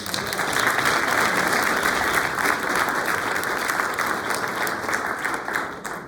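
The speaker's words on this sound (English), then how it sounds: "So let's give them a big round of applause." Audience applause at the 2024 Aberdeen Township reorganization meeting, a sustained wash of clapping from a room full of people that swells, holds and fades slightly near the end.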